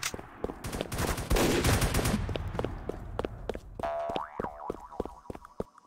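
Gunfire in a Roblox randomizer shooter, with a dense burst of rapid shots followed by a run of sharp, separate single cracks and springy game effects.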